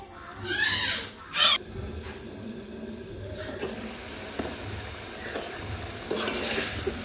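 Potatoes with turmeric, chili powder and green chilies cook in a pan that is covered at times. A few sharp stirring scrapes stand out over a quiet sizzle, followed by softer intermittent clatter and frying.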